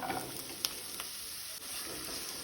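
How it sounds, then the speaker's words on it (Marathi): Five garlic cloves frying in hot oil in a pan for a Goan green peas and potato bhaji, giving a steady close sizzle with a few small crackles and pops. "लसूण मातशी तेलान तळसून घेवया।"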